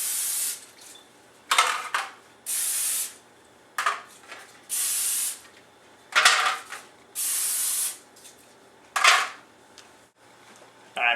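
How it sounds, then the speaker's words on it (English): Repeated bursts of cooking spray hissing onto aluminum loaf pans, each lasting about a second, with brief pauses and faint clinks between them. "you should spray them before you start mixing stuff"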